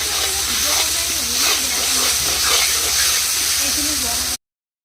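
Tomato sauce and garam masala sizzle with chicken in a hot pan, a loud, steady frying hiss close by with a voice faintly underneath, cutting off abruptly at the end.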